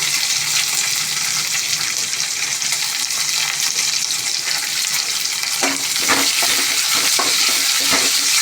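Onions, cumin, mustard seeds, green chillies and curry leaves frying in hot oil for Bombay chutney, a loud continuous sizzle close up, with a few sharp spatula scrapes near the end.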